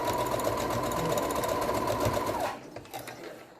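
Sewing machine stitching a backstitch on a fabric face mask: a fast, steady mechanical whirring chatter close up, running continuously before slowing and stopping near the end, followed by a few faint clicks.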